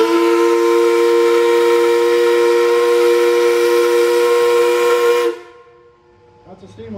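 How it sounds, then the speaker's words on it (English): Loud, sustained steam locomotive whistle on the Kings Island and Miami Valley Railroad blows as one long steady chord for about five seconds, then cuts off sharply and leaves faint rumbling behind. "That's a steam whistle."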